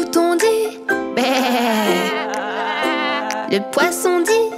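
A voice imitates a sheep's bleat, a wavering tonal 'baa' held for several seconds, close and clear with a few short syllables around it.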